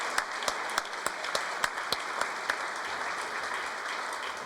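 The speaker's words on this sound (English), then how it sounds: "Let's give him another round of applause." An audience at a city council meeting claps in a faint, even wash of applause with a few sharper single claps standing out.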